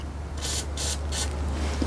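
Three short bursts of aerosol lubricant spray hit steering intermediate shaft bolts, each hiss lasting about a quarter second with even gaps, close and crisp over a low steady hum.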